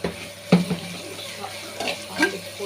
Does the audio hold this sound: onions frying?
yes